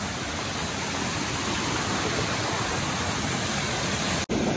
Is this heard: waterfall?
yes